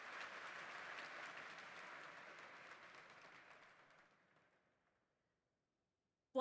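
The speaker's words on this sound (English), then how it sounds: "Polite applause that did not have any enthusiasm to it." Polite, unenthusiastic applause from the audience at Gamescom Opening Night, a moderate even patter of clapping that thins and fades away into silence.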